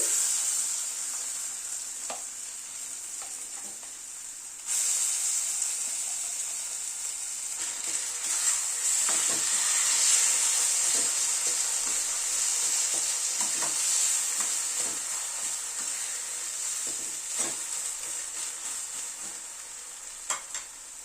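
Bean paste added to onion already frying in a pan, a bright steady sizzle that swells as the paste goes in, with occasional soft scrapes of stirring and no talking.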